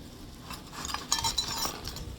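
Broken glass tumblers shifting and clinking inside their shipping box, several light, close chinks of glass against glass and cardboard, quiet and irregular with no talking.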